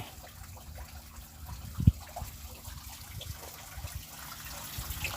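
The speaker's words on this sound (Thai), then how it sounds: "ประตูน้ำเปิดรับน้ำจากทะเล" Seawater pours in through an open sluice gate at coastal crab ponds, a low steady gush and trickle of moderate level, with a brief knock near the two-second mark and no talking.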